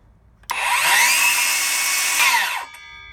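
A RIDGID 18V Octane 7 1/4 inch circular saw, model R8654, snaps on with a loud, high whine that holds for about two seconds, then winds down and stops.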